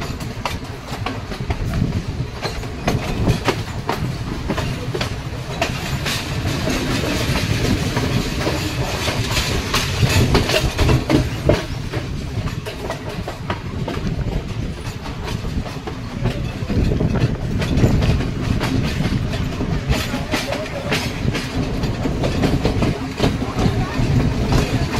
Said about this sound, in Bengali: ট্রেনটা বেশ দুলছে, ঝাঁকুনি দিতে দিতে যাচ্ছে।